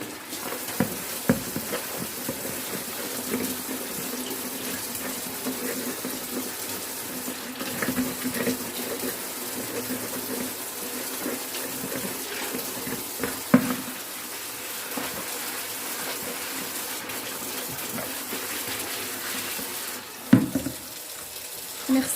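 Hot water runs steadily from a kitchen tap while a pan greasy with ghee is rinsed, a continuous close hiss and splash with a few clunks of the pan against the sink.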